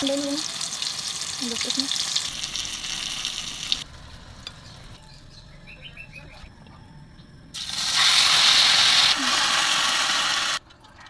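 Tortang talong, an eggplant omelette with egg, frying in a pan, giving a loud crackling sizzle that drops away briefly and then surges back strongly, with scraping sounds mixed in.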